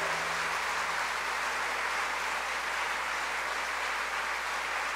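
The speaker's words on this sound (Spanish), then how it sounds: "dale un fuerte aplauso al Señor" A church congregation applauds for Jesus during a Catholic service, producing a dense, continuous wash of clapping. It holds steady and fairly loud for several seconds with no voices on top.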